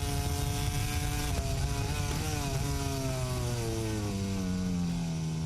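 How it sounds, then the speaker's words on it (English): MotoGP motorcycle recorded onboard, its engine note stepping down through repeated downshifts under engine braking, loud and close with a dense buzzing tone and no talk. "Notice as soon as they brake, they're downshifting as much as they can to generate as much engine braking as possible."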